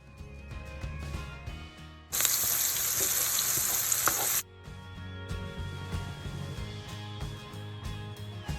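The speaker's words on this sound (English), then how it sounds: "add your chopped onions and 2 green chilies. We use 2 medium-sized onions. Cook this till golden brown." Chopped onions and green chilies hit hot oil in a pan and sizzle loudly for about two seconds, standing out above a quieter background of kitchen noise and soft music.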